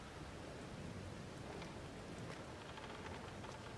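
Rain falls steadily outside a farm building, a dense, even hiss of drops striking surfaces with faint scattered patters, continuous and fairly loud, with no talking.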